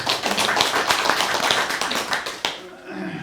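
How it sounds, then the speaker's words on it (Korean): An audience at an academic conference applauds in dense, steady clapping that thins out and fades near the end. "소개해 주신 우리 유창하 대표님께 박수 부탁드릴게요"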